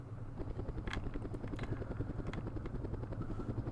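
Helicopters carrying infantry in the Vietnam war game Campaign Series Vietnam fly with a steady, rapid rotor thump and engine drone, loud and continuous throughout.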